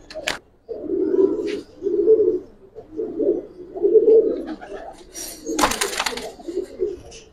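Silver Giribaz pigeons coo in repeated low, rounded bursts close by, with a couple of brief knocks and faint talk in the background.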